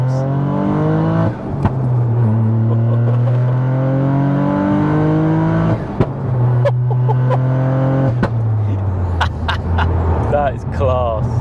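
Big-turbo, fully forged three-cylinder GR Yaris with 530 bhp revving hard, its engine note sweeping up and down in strong harmonic bands, with sharp exhaust pops crackling near the end, loud and close while people talk over it.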